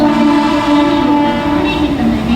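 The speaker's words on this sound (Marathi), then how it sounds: "प्लॅटफॉर्म क्रमांक 1 वर आलेली लोकल 7:44 अंबरनाथला जाणारी ही लोकल आहे।" A Mumbai local train bound for Ambernath pulls into platform 1 at night, a loud, steady tonal rumble and hum that fills the moment, with no voices.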